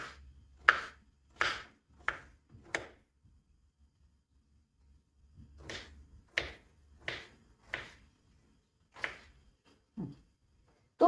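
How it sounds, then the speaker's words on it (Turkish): A knife strikes a cutting board in short, crisp chops through green tomatoes, a quick run of four, a pause, then several more evenly spaced cuts. "Sıra geldi domateslerimi doğramaya."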